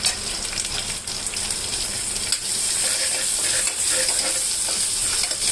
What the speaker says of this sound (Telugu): ఇది కాస్త వేగనిద్దాం.